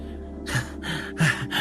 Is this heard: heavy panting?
yes